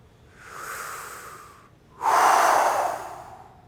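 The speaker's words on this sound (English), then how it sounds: "Go hard on the exhale." Two forceful breaths from a person doing a breathing exercise, a softer airy exhale followed after a pause by a louder, harder rushing exhale, close to the ear with no other sound.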